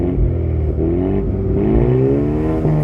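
A 2024 Ford Mustang four-cylinder in sport exhaust mode revs up loudly and close, the engine note climbing steadily and then dipping slightly, with no talk over it.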